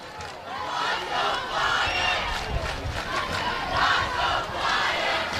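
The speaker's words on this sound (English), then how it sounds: "the Farmington fans are cheering at our fans" Farmington football fans cheering and yelling in the stands at a high school game, a distant roaring crowd swelling and falling in waves.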